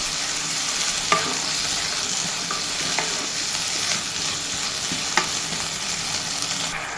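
Onion frying in a pan with garlic paste and ginger paste, a loud continuous sizzle with occasional clicks and scrapes of stirring, no voices.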